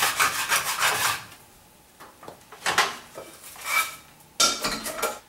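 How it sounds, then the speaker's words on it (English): A metal utensil scrapes the bottom of a pan after meat has browned for chili colorado sauce, with rough rasping strokes in several bursts separated by short pauses, close and fairly loud, with no talking. "now I'm going to go ahead and scrape out the bottom of the pan"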